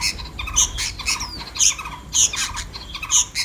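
A caged decoy songbird in a bird trap gives sharp, high squawks and chirps in short bursts roughly every half second, near and fairly clear over a faint background hiss.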